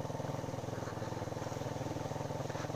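A Rouser NS125 motorcycle riding uphill near Kaybiang Tunnel, its engine giving a steady pulsing drone at close range with no one speaking.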